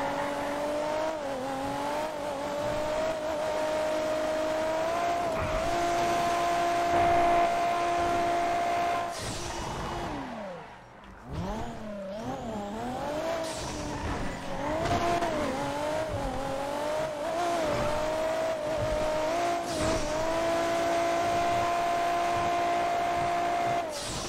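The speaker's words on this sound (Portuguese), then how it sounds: "é muito alto o barulho desse carro" A loud, droning car engine holds a steady tone, briefly revving up and down in wavering pitch midway before settling back, without any talking.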